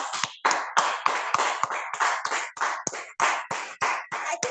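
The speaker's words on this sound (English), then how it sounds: "Can we give her a round of applause?" Clapping at an online Toastmasters club meeting, in sharp close bursts about three per second, loud and distinct with brief gaps between, and no voices over it.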